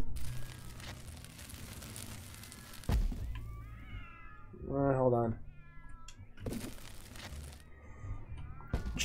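Several cat meows and chirps from South Park: The Fractured But Whole, a cluster of short overlapping mews in the middle, set among game noise, thumps and brief speech.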